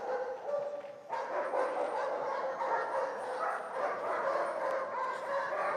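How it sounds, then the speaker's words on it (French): Many dogs barking together in a theatre performance, a dense, continuous chorus of barks and yelps heard at a distance, filling the whole stretch. "Et là t'as les chiens qui aboient."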